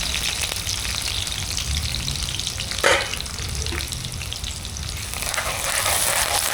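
Curry leaves and green chillies frying in hot oil, a continuous loud crackling sizzle with a sharp spatter burst midway.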